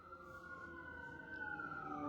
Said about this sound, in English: Pardon the ambulance.